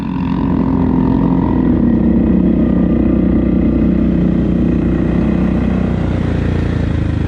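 Yamaha off-road vehicle riding a trail, its engine humming loud and constant nearby with a steady drone and slight throttle variation, no voices.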